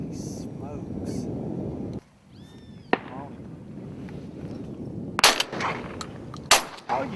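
Gunshots fired at ducks during a hunt ring out as a few sharp, loud cracks spaced apart, with wind and outdoor noise between them and voices nearby.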